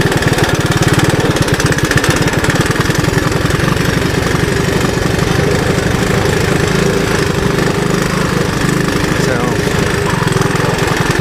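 A 1981 Honda 185S motorcycle putting along in first gear off-road on wet ground, its engine a loud, close, continuous rapid thumping with a voice talking over it.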